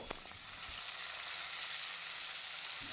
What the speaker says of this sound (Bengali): মিডিয়াম ফ্লেমে সব কিছুকে ভেজে নেব